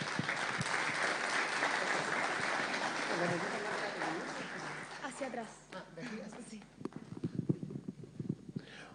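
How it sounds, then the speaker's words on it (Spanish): Audience applause at a citizens' water meeting for the Choapa province, a broad sustained clapping wash that fades after about five seconds into scattered claps and a voice speaking. "para quien pido un aplauso."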